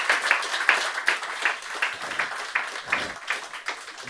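Audience applause at a tech conference summit, steady patter of many hands clapping at moderate loudness for about four seconds, with no talk over it.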